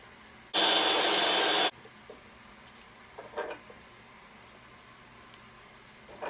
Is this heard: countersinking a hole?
yes